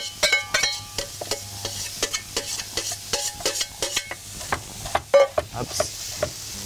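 Food frying in a hot pan in a kitchen cooking red mullet, with sharp repeated scraping and stirring knocks over a steady sizzle, close and fairly loud, no talk.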